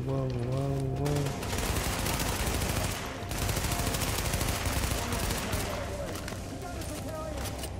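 Sustained automatic gunfire in the shooter game Tom Clancy's The Division, loud, dense bursts of rapid shots with a brief break, overlaid by continuous game music and effects.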